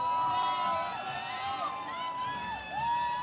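Spectators cheer at the finish of a 50 km trail race, with a crowd roar and whoops rising under an announcer's amplified voice.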